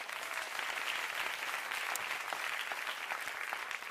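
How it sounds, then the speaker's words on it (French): A gala awards-ceremony crowd applauds continuously, a steady wash of many hands clapping at moderate distance with no pause. "On les applaudit."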